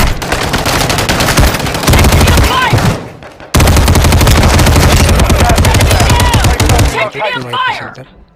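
Sustained automatic gunfire in the mobile shooter game Call of Duty Warzone Mobile, rapid loud bursts running almost continuously with brief pauses, heard alone without talk.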